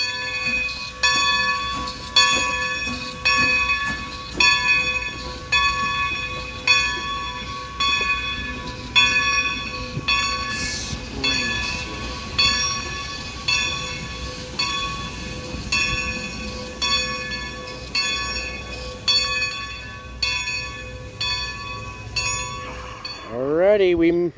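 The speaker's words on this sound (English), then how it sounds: "here comes our first train. Number 90's pulling out of the station here at the Red Caboose Motel" Strasburg train number 90 pulls out of the station by the Red Caboose Motel in Strasburg, Pennsylvania, with a steady rhythmic chuffing and clanking rail noise, a sustained bell-like ringing throughout and a brief horn-like sweep near the end.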